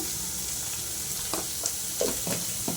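Chicken with chili powder frying in a pan on low heat, a steady broad sizzle with a few soft scraping stirs near the end, close up with no voices.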